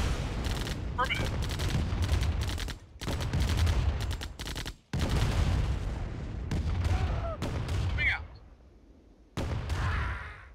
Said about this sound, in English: Now they're shooting stuff over there.